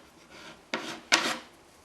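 A stir stick scrapes along the back of a container of filler for interior modification work, two short rasping strokes close by with a faint shuffle before them.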